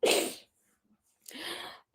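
A sudden, close sneeze bursts out, then after a short silence a second breathy, sneezy burst follows.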